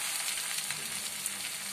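Gongura leaves fry steadily in a pan for a gongura tomato pickle, giving a close, even, continuous sizzle with no voices.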